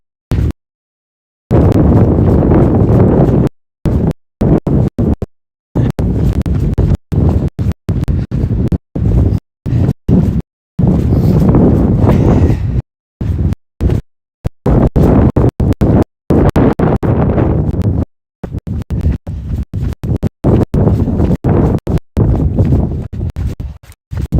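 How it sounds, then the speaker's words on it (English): Strong wind during a climb of Mount Helena, buffeting the microphone in loud, roaring gusts that cut in and out abruptly, with brief quiet gaps between bursts. "Wind is fighting."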